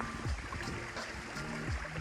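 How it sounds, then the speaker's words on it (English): Water running down Sluice Brook beside Sluice Brook Road on the Appalachian Trail, a steady broadband rush and trickle close by, with a few low thumps over it. "That's what it's named for, is that water coming down the Sluice Way."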